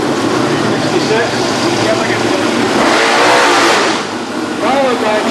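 A Shelby GT350 race car engine rumbles past in a parade at a concours event, a steady loud roar that swells briefly as it passes, with a voice speaking over it.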